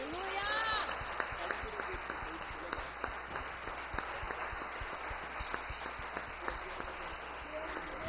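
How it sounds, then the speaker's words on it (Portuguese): A church congregation breaks into applause for the Lord during worship, a scattered, busy patter of many hands that carries on steadily, with a brief voice at the start and some sharp individual claps. "Você pode aplaudir o Senhor,"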